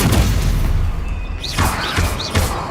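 Incendio fire spells in Hogwarts Legacy go off in a string of booming bursts and thuds, with three rising whooshing flares of flame in quick succession, loud and close.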